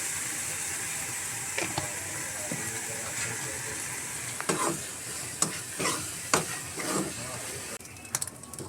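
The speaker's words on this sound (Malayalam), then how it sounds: "കുറച്ചും കൂടെ വെളിച്ചെണ്ണ ഒഴിച്ച് കൊടുക്കണം." Dried red chillies fry in coconut oil and are stirred in a pan: a soft, steady sizzle runs throughout, broken by sharp scraping clicks from the spoon that grow more frequent toward the end.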